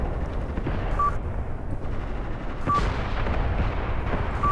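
Distant enemy artillery fire in Graviteam Tactics Mius, a steady rumbling stream of gunfire and far-off booms with faint repeated high beeps, continuous and fairly loud throughout.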